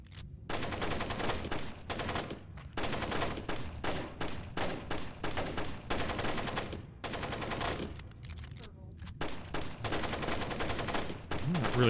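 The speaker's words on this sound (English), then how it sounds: "Who are they shooting at?" Sustained automatic gunfire rattles through Tom Clancy's Splinter Cell in long, steady bursts broken by brief pauses, fairly distant and continuous with no talk over it.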